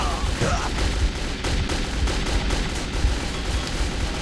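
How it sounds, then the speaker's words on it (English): Gunfire in the video game Metro 2033, with rapid bursts of repeated shots crackling steadily throughout, fairly loud and dense with a booming low end. "First 2 seconds of being here, and we're already getting shot at."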